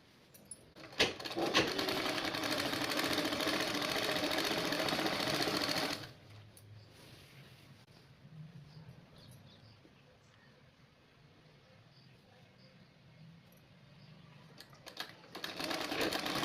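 A sewing machine stitches a border onto a saree, whirring loudly and continuously for about six seconds, then stopping, with quiet handling noises and a brief burst of motor noise near the end.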